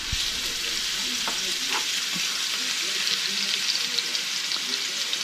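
Zucchini frying in an oiled pan, a loud constant sizzle with occasional crackles and small stirring scrapes, close up and without talk.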